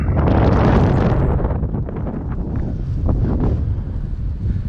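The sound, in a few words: strong wind on a hilltop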